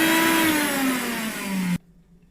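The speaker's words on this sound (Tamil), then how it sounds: "கொஞ்சமாக தண்ணி விட்டு அரைச்சிக்கிறேன்." Mixer grinder whirring as it grinds rasam spice paste with a little water, a loud steady motor whine that drifts slightly lower under load, then cuts off abruptly near the end, leaving quiet.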